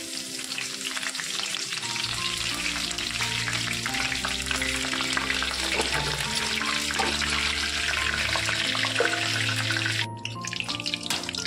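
Loud, continuous crackling sizzle of curry leaves frying in hot oil, with a steady hiss throughout and a brief dip near the end.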